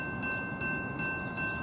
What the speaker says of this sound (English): The next Metra train approaching your station will be a Metra Express train and will not stop.